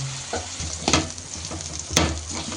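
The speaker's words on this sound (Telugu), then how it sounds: "ఆలు అయితే దాంట్లో వేసి కలిపేసుకుందాం" Potato is stirred into spicy masala in a hot pan. A steady sizzle runs throughout, broken by a couple of sharper scraping strokes from the spoon against the pan. The sound is close and there is no talking.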